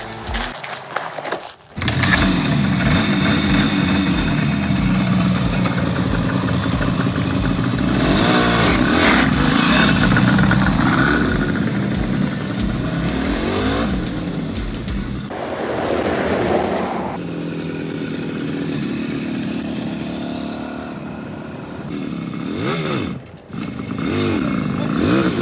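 Suzuki GT 185 motorcycle engine starting up and riding away, a loud two-stroke buzz that surges and revs repeatedly with wind noise, dropping briefly around the midpoint before pulling away again.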